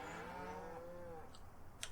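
Cattle in Farming Simulator 19 give one drawn-out, gently falling moo that fades after about a second, followed by faint clicks over a low, steady ambient hum.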